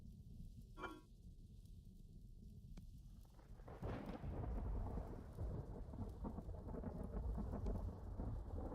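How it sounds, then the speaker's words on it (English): Rain and rolling thunder from a farming video game, steady rainfall with a crack of thunder early on, then a heavier downpour and rumble building loud and close. "Of course, it's raining now."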